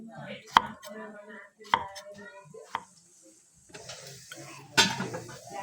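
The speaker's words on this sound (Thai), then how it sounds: "เราจะหั่นมะบวบ" A knife chops luffa gourd on a cutting board in a home kitchen, with a few sharp, spaced strikes ringing out between quieter handling and soft background voices.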